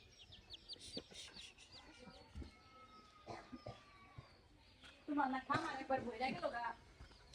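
Chickens cluck softly on a small farm where chicks are raised alongside doves. Faint scattered calls give way to a busier burst of clucking near the end, with people talking at low level throughout.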